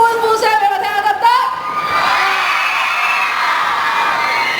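A large crowd at an anime and comics festival, just before the opening, breaks into loud cheering and whooping that swells after a brief voice at the start and holds steady, dense and close.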